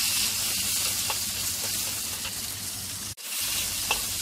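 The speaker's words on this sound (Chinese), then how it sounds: "咁而家我哋炒香个冬菇先" Shiitake mushrooms stir-frying in a wok, with a steady close sizzle and hiss and faint scrapes of stirring, briefly broken by a short gap before the frying carries on.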